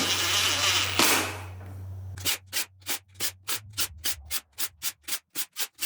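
An impact gun snugs down bolts on a go-kart rock crawler's beadlock wheel, first a continuous whir, then about a dozen short, regular rattling bursts in quick succession, close and loud.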